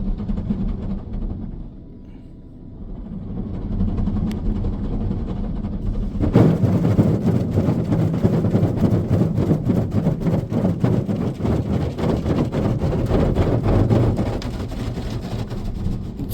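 A Nu-Star Soft Touch Plus friction car wash in Arvada, Colorado, scrubs a car aggressively; a low hum gives way to a loud, rhythmic slapping and brushing of cloth against the body, heard from inside the shaking car.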